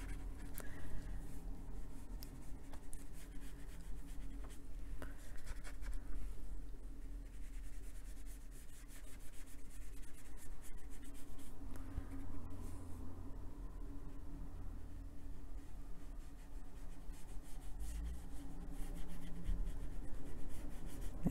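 A brush lays Inktense colour onto paper, a steady soft scratchy rubbing that runs without a break, close and quiet, with no talking.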